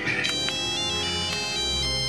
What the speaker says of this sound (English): our ringtones going the way of the dinosaurs